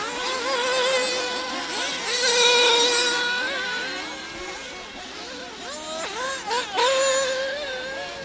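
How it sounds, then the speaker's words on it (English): Nitro RC buggy engines screaming around an outdoor race track, high buzzing whines rising and falling as several cars accelerate and brake, fairly loud and overlapping. "I hear Nitro engines back there."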